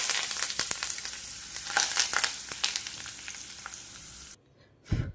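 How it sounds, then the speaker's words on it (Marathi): Curry leaves land in hot oil with the gas off, crackling and sputtering in sharp bursts up close, fading to quiet before one last rustle. "आता मी कढीपत्ता टाकीते."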